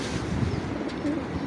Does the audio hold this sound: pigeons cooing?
yes